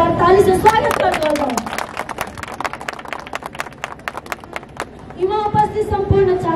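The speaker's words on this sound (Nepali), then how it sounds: "एक बार जोरदार ताली से स्वागत कर दो" Crowd clapping breaks out at a Nepali election campaign rally to welcome a speaker, a dense patter of handclaps filling the middle of the clip, bracketed by amplified speech at the start and end.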